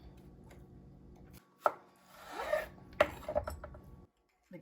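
A knife chops cucumber on a board in a few separate sharp strokes and short scraping cuts, close and fairly quiet, with pauses between them and near-silence at the end.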